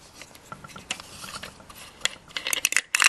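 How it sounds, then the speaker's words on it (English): A coffee and spice grinder twisted anti-clockwise to loosen it, producing close, dry ratcheting clicks and grinding scrapes that grow denser and louder toward the end. "turn it anti-clockwise, and it works. So you see, now that's loosened off"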